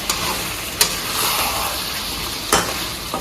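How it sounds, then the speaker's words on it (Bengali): Mutton frying in an open, uncovered pan, a continuous soft sizzle with two distinct spoon scrapes, one early and one late, heard close with no voices. "এয়া একদম মজাকৈ ভাজি আছোঁ চাওক এয়া"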